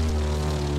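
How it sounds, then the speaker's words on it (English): Propeller airplane engine in the racing game The Crew 2, a steady loud droning hum with strong low harmonics held throughout, no voices. "Alright, let's switch to a plane now."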